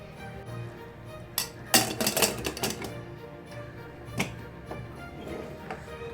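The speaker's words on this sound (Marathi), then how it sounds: "आणि आता मी झाकण लावते." Metal clanks and clinks as a pressure cooker lid is fitted and locked into place, a quick cluster of sharp knocks followed by a few scattered taps.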